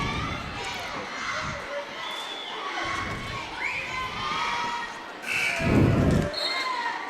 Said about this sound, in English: Both these crowds are very enthusiastic about this game.